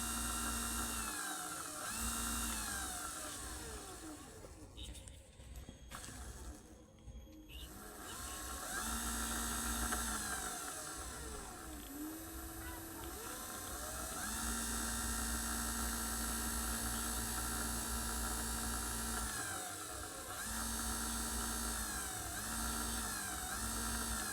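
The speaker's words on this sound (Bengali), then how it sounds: "দেখতে পাচ্ছ মোটরটা কিন্তু চলছে, স্পিড দেখতে পাচ্ছ খুবই বেশি হচ্ছে।" A 24-volt electric bicycle motor runs under throttle, a steady high-pitched electric whine that rises and falls in pitch as the speed changes, loud and close and continuous throughout with no voices.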